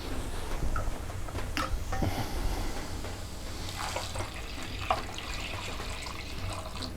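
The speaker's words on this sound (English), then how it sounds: "we'll go ahead and add water on them" Water poured into a hot frying pan of browning rice dish ingredients, a steady hissing, bubbling wash of liquid close by, continuous for several seconds with small clinks, no talking.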